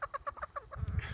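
A backyard chicken gives a quick series of about six close, faint clucks in even rhythm, followed by a brief low rustle.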